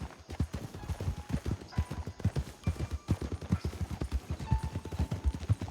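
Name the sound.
horse hooves clip-clopping, from a video game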